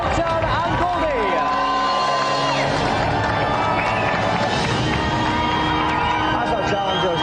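A television game-show studio audience cheering and whooping, lively crowd noise and claps running throughout, with a host's voice talking over the top.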